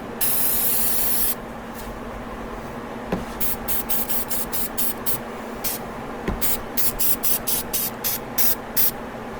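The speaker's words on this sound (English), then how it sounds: "I like to spray that mounting bolt down there so that way I don't have to worry about it." Aerosol can spraying onto the battery terminals and mounting bolt of a 2008 EZGO TXT gas golf cart: one long hiss, then a quick series of short rhythmic bursts, close and clear, without talking.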